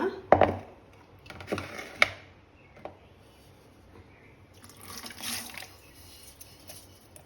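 Soaked ragi (finger millet), washed three times, is strained, with a few sharp close knocks of a vessel followed by a soft, steady trickle and splash of water draining away.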